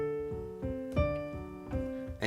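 Piano passage from the adagio of Moonlight Sonata, a few slow sustained chords with soft repeated notes, played quietly and alone.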